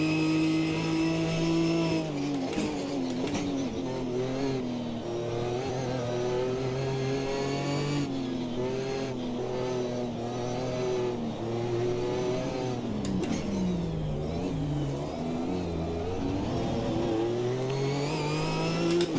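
Ginetta race car engine in an online sim racing game, heard from the cockpit: a loud mid-pitched engine revving up and down through repeated gear changes and lifts, continuous for the whole stretch with no talk.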